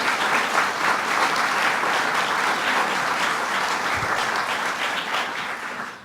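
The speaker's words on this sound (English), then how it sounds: "Let's give them a round of applause also." An audience at a New York bill-signing ceremony with the governor breaks into sustained, dense applause. The clapping stays loud and even for several seconds, then begins to fade at the end.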